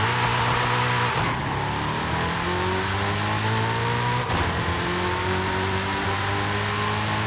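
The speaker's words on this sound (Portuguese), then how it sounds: "Ele tem anti-lag. Ele é um biturbo, um motor V8 biturbo." A twin-turbo V8 car with anti-lag in Forza Horizon revs hard and loudly, the engine note climbing steadily through the gears with two brief shift breaks, close and continuous without talk.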